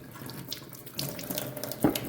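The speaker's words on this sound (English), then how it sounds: "I'm gonna clean them in the water just a little bit" A kitchen sink tap runs steadily as shiitake mushrooms are rinsed under the water, a soft continuous splashing with a few small sloshes and bumps, close and fairly quiet, with no talking.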